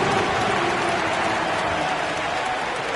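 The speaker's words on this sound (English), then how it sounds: "Give yourself a round of applause." Crowd applause fills an arena in the basketball video game NBA 2K25, a steady wash of clapping and cheering that holds at a constant level throughout.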